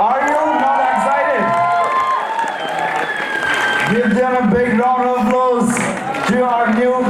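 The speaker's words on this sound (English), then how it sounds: "Give them a big round of applause." An audience at a Mr. & Miss Fresher pageant claps and cheers loudly and continuously. A host's amplified voice and shouting carry over the crowd noise.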